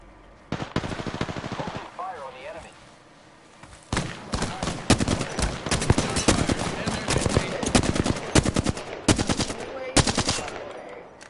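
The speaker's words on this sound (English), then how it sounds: "They're fucking firing at me." Rapid automatic weapon fire in the Apex Legends shooter game, several loud bursts of close, crackling shots separated by short pauses, with a player talking in between.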